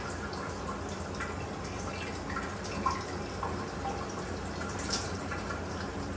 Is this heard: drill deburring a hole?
no